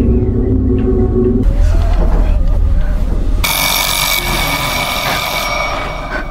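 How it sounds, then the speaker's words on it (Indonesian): A telephone rings with a steady, bright electronic tone that comes in partway through and holds to the end, over a low rumble and what sounds like voices. "Iris menelpon Katie sekalian ingin curhat."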